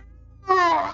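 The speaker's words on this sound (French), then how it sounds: "Tu as l'impression que c'est deux chats qui se bagarrent" Two cats fighting outdoors at night, a loud yowling caterwaul bursting in suddenly after a quiet low hum and continuing strongly to the end.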